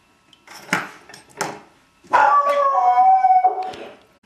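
A dog howls in a kitchen: two short yelping cries first, then a loud, sustained wavering howl that fades out, with faint clinks of dishes nearby.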